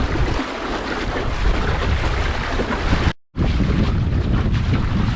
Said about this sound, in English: it's a nice little gust over here now